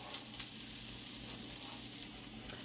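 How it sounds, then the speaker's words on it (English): Bacon and onion frying together in a pan, a steady close sizzle with crackling spatter throughout a short stretch, no voices. "I'm going to finish caramelizing my onion and frying up my bacon"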